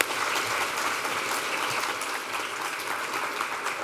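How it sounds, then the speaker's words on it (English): An audience at an epilepsy mortality conference gives a steady round of applause, dense, even clapping that fills the room for the whole few seconds without any talk over it. "Big round of applause for Libby."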